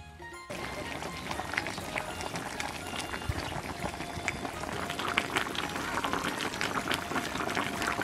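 Giant cow hooves simmer in a pot of braising liquid with chili, soy sauce and Huadiao wine, bubbling continuously at a soft, steady level close by.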